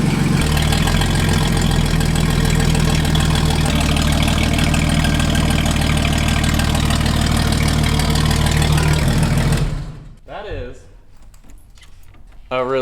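Jeep Comanche engine running loud and coarse like a tractor, a steady heavy drone with mechanical clatter for about ten seconds before it cuts off, followed by quieter knocks and handling noises.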